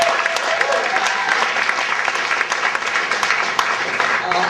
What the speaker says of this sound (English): Nice round of applause for the show so far.